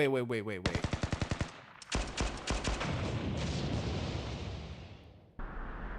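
In the video game Blue Archive, rapid machine-gun bursts rattle in quick rhythmic volleys, followed by booming explosions and sustained heavy gunfire, loud and close.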